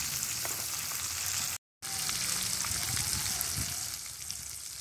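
Spicy marinated chicken wings fry in hot oil, a loud continuous sizzle and crackle with a brief break partway through, no voices.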